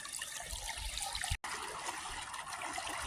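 Natural spring water trickles and splashes from the ground near Duncannon, Pennsylvania, a steady close wash with a brief cut-out midway.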